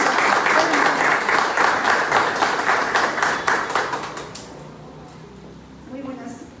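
Crowd applause at a press conference for a speaker: loud, dense clapping that fades away after a few seconds, followed by a quiet voice beginning to speak.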